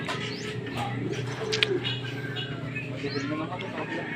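Pigeons coo softly in a loft, low rolling calls repeating over a steady background hum, with a few faint chirps and light shuffling and someone speaking quietly nearby.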